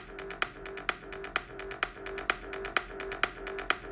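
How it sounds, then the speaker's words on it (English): A punchy kick drum thumps on a steady beat while a low sustained sidechained sub bass swells and ducks between hits. "So all together, the kick with the side trance sounds like this."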